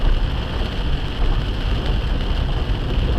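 Rain falls steadily on a parked vehicle in a rough parking lot, a dense, even hiss of drops with a low rumble underneath, constant and close, no talking.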